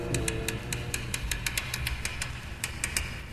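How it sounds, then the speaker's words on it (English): Sharp, regular clicks tick steadily over a low mechanical hum, about a dozen in quick succession, close and crisp. "the clicking noises you hear are the tumblers of a lock magnified many times by intricate amplification equipment"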